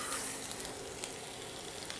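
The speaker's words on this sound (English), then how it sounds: "Okay, nice sizzle." Shaved Brussels sprouts sizzle steadily in a hot pan, a constant crackling hiss with occasional louder pops, close and without talk.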